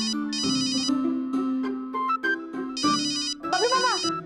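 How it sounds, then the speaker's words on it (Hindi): An electronic phone ringtone repeats in bright bursts over a steady tune, ringing loud and close in several pulses. "फोन उठाइए, फोन बज रहा है।"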